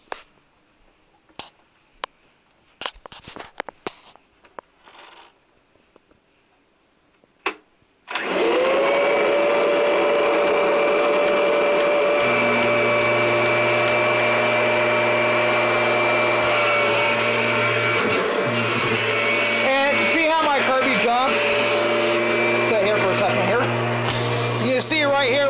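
A Kirby G4 upright vacuum cleaner is switched on after a few sharp clicks and then runs steadily and loudly, with a high motor whine and a low hum that stays constant for the rest of the clip.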